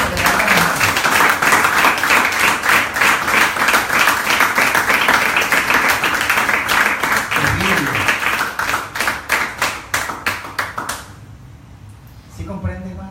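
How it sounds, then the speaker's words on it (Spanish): Congregation in a church claps together, rhythmic and fairly loud, with a preacher's voice and vocal sounds over it; the clapping thins into scattered individual claps before stopping near the end. "Dale un aplauso al Señor para que no quede nada."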